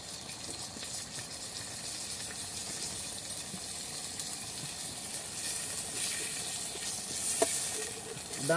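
Onion and garlic sizzle as they brown in a pan for a dried-fish moqueca with coconut milk, a faint steady hiss throughout with small scattered crackles, close and without talk.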